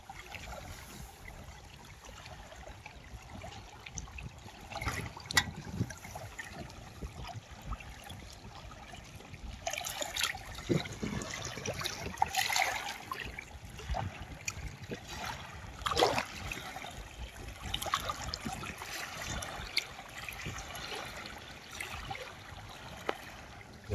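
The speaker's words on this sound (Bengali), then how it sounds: "এই জায়গাটা প্রচুর পানি নামতে আছে স্রোত" A strong river current flows past fishing nets on a Bangladesh river in the rainy season. The water gives a faint, continuous rushing and gurgling with scattered splashy bursts, heard alone without talk.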